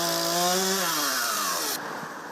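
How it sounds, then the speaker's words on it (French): A chainsaw cutting through a fallen tree, its engine note rising and then dropping as the blade bites into the wood, loud and close before cutting off sharply near the end. "En une dizaine de minutes et quelques coups de tronçonneuse, les habitants pourront à nouveau sortir de chez eux."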